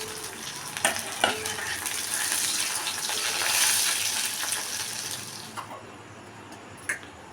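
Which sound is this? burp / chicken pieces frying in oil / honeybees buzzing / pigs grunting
chicken pieces frying in oil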